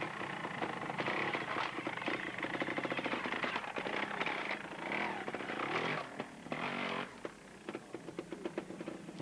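A new Aprilia trials motorcycle working through a section at a British championship round, its engine revving and popping continuously and fairly loudly, with the rasping note rising and falling.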